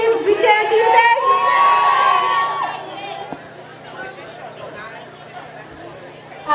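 Crowd at a political rally cheers and whoops loudly, with shouts rising over one another, then dies down to scattered chatter.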